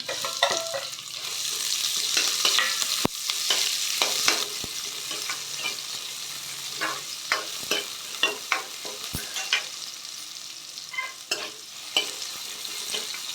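Onion and dried red chillies fry with mustard seeds in a hot pan, giving a steady crackling sizzle broken by repeated sharp scrapes and clicks of a stirring spoon, close and fairly loud, with no talking.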